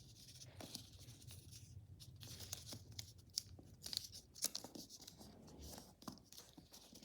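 Paper being folded and creased for an origami velociraptor, with soft crinkling and rustling and occasional sharper crisp creases, close and quiet throughout.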